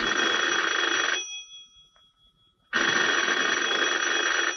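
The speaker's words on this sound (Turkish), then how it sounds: "Telefon çalıyor." An old telephone bell rings in two long, loud, steady trills separated by a short pause of near silence.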